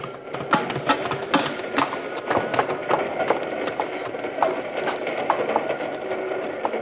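A moving train rattles along with rhythmic clicking and clattering of wheels on track, moderately loud and steady throughout.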